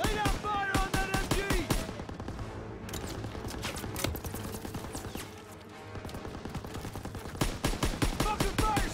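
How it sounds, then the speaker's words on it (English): Sustained machine gun fire in Call of Duty WWII, on Hill 493: rapid bursts of shots hammer in dense rhythmic runs amid battle noise and shouting, loud and continuous. "You gotta suppress the machine gun!"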